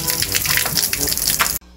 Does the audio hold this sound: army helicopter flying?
no